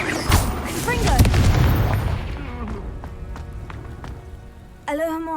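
A Confringo fire spell blasts with a loud, booming burst in the Hogwarts Legacy wizarding game, followed by crackling debris and a fading rumble, and a voice speaks at the end.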